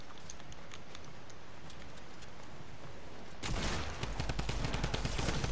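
Drum gun fire in the Fortnite video game: faint tapping over a low background, then a sudden, loud, rapid stream of shots that continues to the end.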